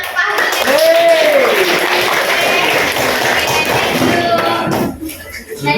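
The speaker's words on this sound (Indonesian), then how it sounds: "Tepuk tangan ke Pak Hari." Applause for a participant named Pak Hari at a teacher-training group session: a dense burst of clapping from a room of people, near and fairly loud, with voices mixed in, before it fades out near the end.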